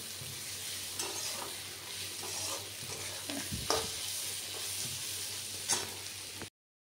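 Potato and pointed gourd curry frying with garlic in a pan, a constant low sizzle with occasional stirring scrapes, soft and steady, then abrupt silence.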